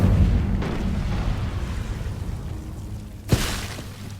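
An Incendio fire spell is cast in Hogwarts Legacy, a sudden sharp burst with a bright roaring flare near the end, following a low rumbling, booming background of battle.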